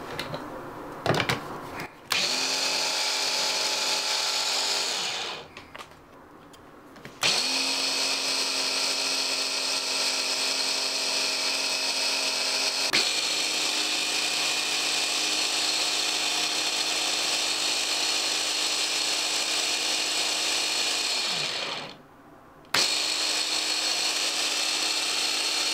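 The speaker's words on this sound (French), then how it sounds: "je continue encore une fois à mixer jusqu'à avoir une pâte très liquide et bien onctueuse" A food processor blends sesame paste with a little salt into smooth, runny tahini, a loud steady motor whir that runs for long stretches, stops briefly twice and starts again.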